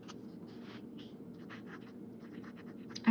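A Pilot Petit fountain pen with a wet, juicy nib writing on paper, soft close scratchy strokes in short irregular bursts with small pauses between words, ending in a brief louder bump.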